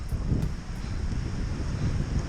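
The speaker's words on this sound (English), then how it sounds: "I've got a bad headwind" Strong headwind buffets the microphone of a cyclist on an exposed climb out of Rottenstall on the Burnley Road on a cold, wet November day, a steady low roaring rumble that fills the whole stretch without any talk.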